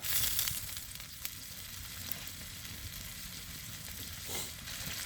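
Bread frying in a pan with olive oil over a campfire: a continuous, fairly quiet hissing sizzle with faint crackles and a brief stir, no talking.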